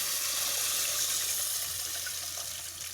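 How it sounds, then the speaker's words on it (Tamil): Strained tamarind water is poured into a fish curry, making a steady close splashing rush that tapers slightly at the end, with no talking. "இப்போ வந்து நம்ம கரைச்சி வடிகட்டி வச்சுக்கிற புளி தண்ணியை ஊற்றிக்கணும்."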